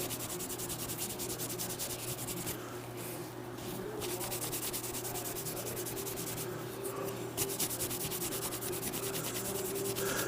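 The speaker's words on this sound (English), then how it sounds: "I just take one of these cloths and I just shine it up real good" A cloth rubs and buffs a handmade copper cuff, giving a faint, continuous scrubbing sound with short pauses, steady and close.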